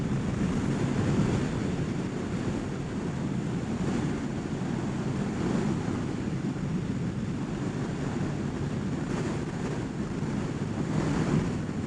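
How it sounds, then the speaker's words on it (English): Heavy, constant wind buffets the rider of a Ninja 1000SX sport-touring motorcycle, a loud, unbroken roar that fills the whole stretch with no voice over it. "Man, this wind."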